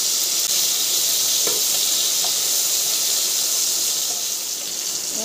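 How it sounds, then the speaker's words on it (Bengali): Rohu fish pieces frying in hot oil in a wok, giving a steady, loud, dense sizzle that runs unbroken throughout with no talk. "এখনও মাছগুলো ভাজছি"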